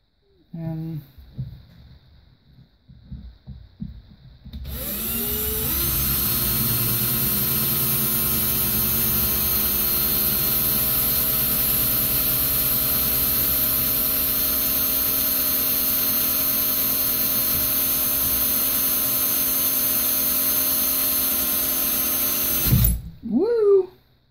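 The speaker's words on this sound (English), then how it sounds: "let's go ahead and drill those holes in there" A power drill bores holes in bullet casings for headphones, starting with a short whir and then running at a loud, steady high-pitched whine for nearly twenty seconds before winding down, with brief talk before it starts.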